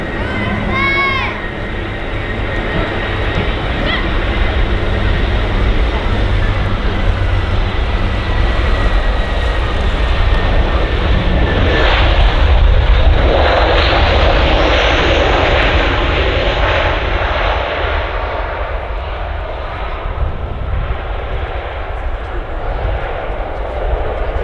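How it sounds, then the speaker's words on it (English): A Lufthansa airliner arriving on runway 05L at Manchester Airport, a loud sustained jet engine roar swelling as it passes close by, then slowly fading as it rolls away. "Just waiting for a Lufthansa to arrive."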